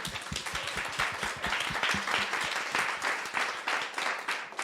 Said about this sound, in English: Another round of applause for an excellent debate.